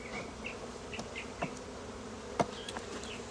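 Honey bees buzzing around an opened hive during an inspection, a steady low hum with several individual bees zipping close past the microphone and a couple of brief knocks.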